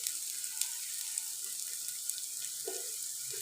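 Two chopped onions fry in half a cup of cooking oil for a chicken dum biryani, a steady bright crackling sizzle, quiet and close, with a soft clatter near the end and no talk.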